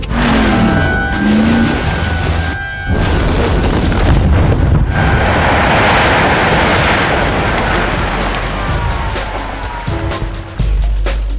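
A hand-built, stiffened and lowered Mercedes G-Wagon roars loudly inside a big tin shed, a sustained, booming engine blast with sharp bursts and reverberation throughout.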